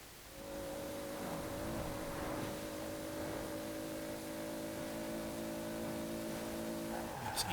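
A 1992 Toyota Supra 2.0 GT twin turbo accelerating at high speed in Forza Horizon 4, a sustained steady engine drone with clear harmonic tones holding for several seconds before a brief change at the end.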